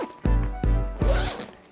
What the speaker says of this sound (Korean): 지퍼 열어주게 되면은 이렇게 메쉬로 되어 있습니다